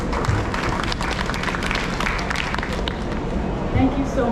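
Conference audience applauding after a presentation on health care climate action, a steady, moderate wash of clapping lasting throughout with a busy crowd murmur mixed in.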